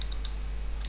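Keystrokes on a computer keyboard as a web address is entered into a browser's address bar, a few quick clicks standing out over a steady low hum.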